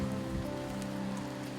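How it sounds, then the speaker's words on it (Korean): Steady rain falls and patters on surfaces in a continuous wash of dense drops, close and moderately loud with no talk. "지금 또 아시다시피 계속 비가 내리고 있고"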